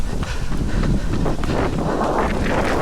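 Wind blows hard across the microphone in a dense, steady roar of buffeting rumble that stays loud and continuous throughout, with no voices heard.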